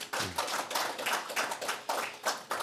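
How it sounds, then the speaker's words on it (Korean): A small audience claps in unison-like bursts, a rhythmic series of close, moderately loud hand claps repeating every fraction of a second, given in thanks at a religious gathering. "다시 한번 우리 참모님께 감사의 박수를 올리겠습니다"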